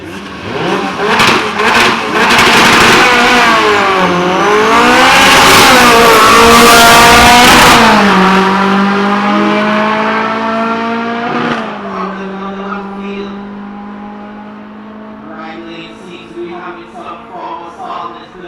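A drag race car at qualifying revs hard, its engine climbing and falling unevenly and failing to rev out cleanly, loud and close, then settling into a rough, wavering idle.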